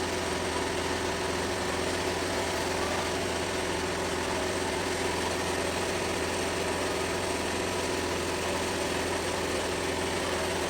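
An old engine idles steadily during an oil change, a continuous dense mechanical hum with no break and no voices.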